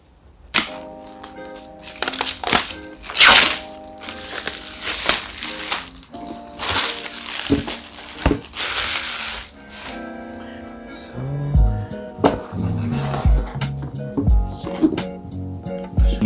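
Packaging of an iPad Pro 12.9-inch 4th generation box being opened, with repeated crinkling, scraping and tearing bursts of cardboard and plastic up close, interrupted by short pauses and a few light taps.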